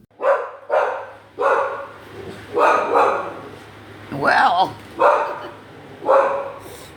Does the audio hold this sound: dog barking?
yes